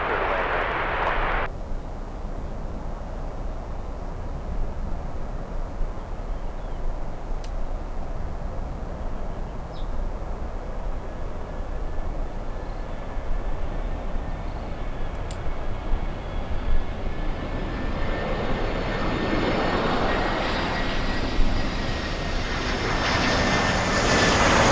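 A United airliner landing at Miami International Airport, its engine roar loud and steady throughout with a rising whine, swelling louder toward the end.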